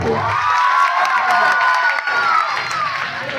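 Dense crowd applause and cheering fill the hall at an Odia music stage program in Bhadrak, a loud, steady wall of clapping and shouts lasting throughout with no pause.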